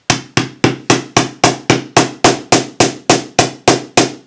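Sharp metallic hammer strikes on metal wire for a pendant repeat at a steady, quick pace, about three per second, loud and close with short ringing decays.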